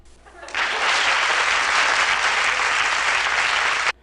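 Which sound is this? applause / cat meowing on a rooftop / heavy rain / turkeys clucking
applause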